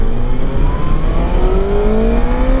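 A loud, close Kawasaki Ninja ZX-6R sport motorcycle engine revs steadily, its pitch climbing as it accelerates under a constant roar, with no talking.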